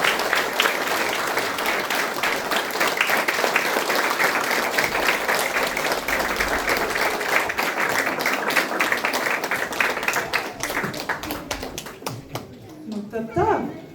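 Sustained applause from an audience at a folk dance gathering, dense and steady for about twelve seconds before thinning out, with a voice speaking as the clapping fades at the end.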